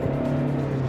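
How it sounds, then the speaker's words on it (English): A car with a 1.6-litre engine pulls hard through the gears, its steady droning engine note loud and continuous for a moment with no break. "Straight through the gears, this engine provides enough power all across the rev band."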